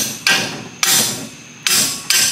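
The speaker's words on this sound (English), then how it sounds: "A little bit of excessive hammer," Four loud, sharp metallic hammer blows on a wrench fitted to a seized bolt while swapping in CV axles, spaced unevenly, each ringing briefly before the next strike.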